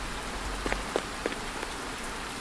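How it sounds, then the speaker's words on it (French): Heavy rain in the Minecraft video game, a dense steady hiss of falling water with a few soft scattered drop taps, playing alone without speech. "Conditions météorologiques. Pluie forte."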